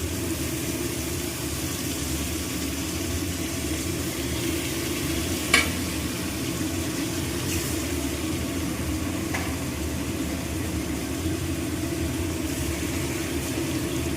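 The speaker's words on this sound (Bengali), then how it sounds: "ঠিক আছে, মাছটা আমি বসিয়ে দিচ্ছি।" Fish fries in a pan with a steady, even sizzle, with a single sharp clink partway through.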